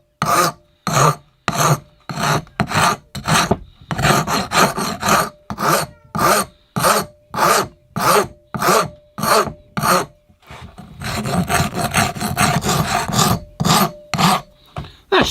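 A file rasps across the back of a cast bonsai-pot piece to flatten it, about twenty loud, close, evenly spaced strokes, with a faster, denser run of scraping near the end.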